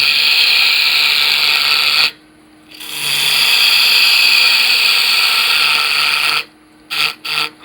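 A wood lathe turns a pepper mill blank while a tool makes a peeling cut, giving a loud, steady whirring cut that stops briefly, resumes for several seconds, then ends in a few short bursts.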